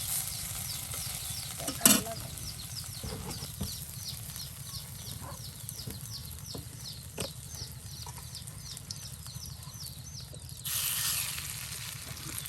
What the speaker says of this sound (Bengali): এই যে এখন তৈরি করা হচ্ছে সাজনা ফুলের বড়া